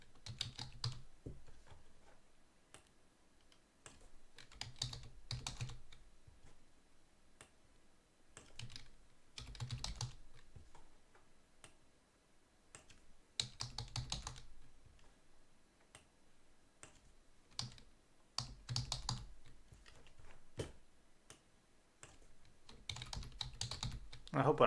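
Fast bursts of typing on a computer keyboard, clustered key clicks in irregular runs separated by short pauses, close and fairly quiet, with no talking.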